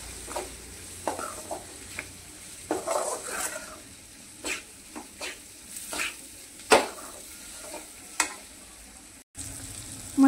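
Onion-garlic spice masala roasting in a pan for egg bhurji, a gentle sizzle beneath intermittent spatula scrapes and knocks against the pan, close by with no speech.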